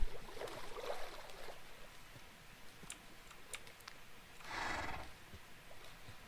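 A horse in the Minecraft video game whinnies with a short bright burst midway, amid faint scattered game clicks and taps; no talking.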